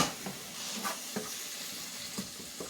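Onions sautéing in oil in a pot for a Zimbabwean sadza meal, a steady soft sizzle with a few faint clinks and stirring taps, no voices.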